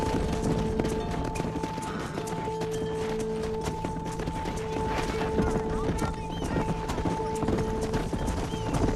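Horse hooves clip-clop steadily at a gallop while cattle are herded across open range in the Western video game Red Dead Redemption, the close, continuous hoofbeats layered over sustained musical tones with occasional whinnies.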